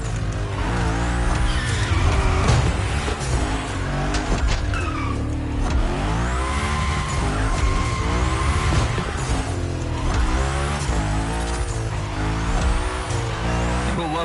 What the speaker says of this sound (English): We're focusing on Gymkhana essentials, big slides, and precision.